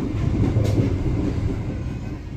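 Jenggala commuter train pulling into Tandes station, a loud continuous rumble and rolling wheel noise from up close, with no talk.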